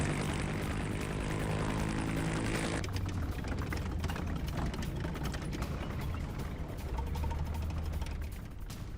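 Military helicopters during an Afghan forces war drill give off a loud, continuous engine and rotor drone that persists unbroken from start to finish.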